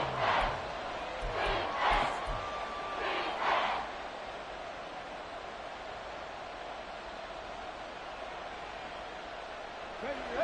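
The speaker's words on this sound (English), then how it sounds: "Well, this crowd into it now." A football stadium crowd at a Titans vs Dolphins game roars in a few loud surges over the first few seconds, then settles into a steady distant murmur of noise.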